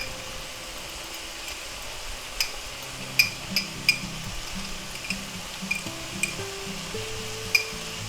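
Minced garlic and seasonings sizzle quietly in oil in a pan, a soft steady crackle broken by a few light clinks of a utensil, with no talking.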